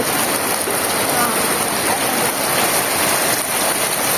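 Heavy monsoon rain pours steadily onto surfaces nearby, a dense, loud, unbroken hiss that continues throughout.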